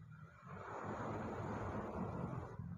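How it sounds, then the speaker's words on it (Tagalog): Strong sea waves breaking on the shore at Manila Bay, a faint broad rushing surge that swells after a quieter start and holds as a steady wash, with wind buffeting the microphone. "Lakas ng alon mga tropa."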